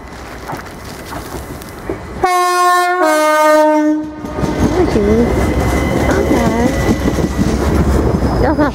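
Class 377 electric trains depart Brighton station, sounding two-tone horn blasts over rumbling wheels and rising motor whine; someone talks briefly afterward.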